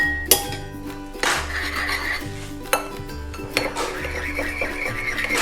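Duck noodles stirred in a metal pot, with repeated scraping strokes and sharp clinks of the utensil against the pot in an uneven rhythm, close and fairly loud.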